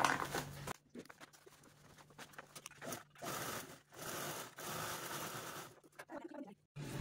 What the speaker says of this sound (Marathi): ठीक आहे, तर चला मी हे लगेचच स्टिच पण करून घेते.